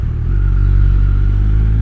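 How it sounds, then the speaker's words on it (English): An old Range Rover rumbles close by on a busy road, a loud, steady low engine drone that holds throughout with no voices. "oh, there comes the old Range Rover."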